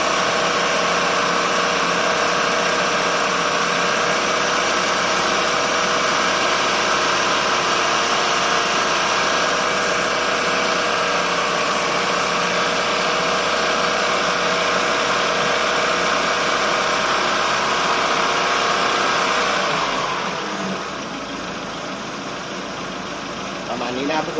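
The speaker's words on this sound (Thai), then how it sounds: "ทำการเร่ง เครื่องยนต์ขึ้นนะครับ" A Chevrolet Aveo engine runs steadily and loudly for most of the stretch while the air-conditioning compressor is refilled, then drops off near the end, with a faint voice over it.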